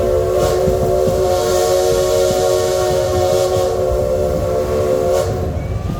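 An amusement park train runs along with a steady, loud whistle tone held over its continuous rumbling roll, heard up close with no talking.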